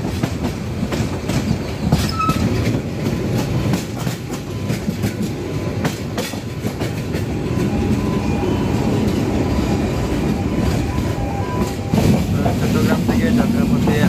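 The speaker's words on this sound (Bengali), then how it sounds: "চলছে যোগাযোগ ট্রেন।" Continuous loud rumble and rhythmic wheel clatter inside the Jogajog passenger train on the Chittagong to Sylhet run, steady for the whole stretch with no break.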